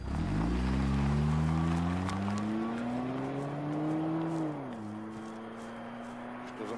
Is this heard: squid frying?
no